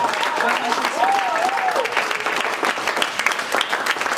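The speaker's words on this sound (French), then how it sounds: "acclamons" A church congregation applauds in a steady, dense wash of clapping that runs the whole time, with a voice briefly calling out over it near the start.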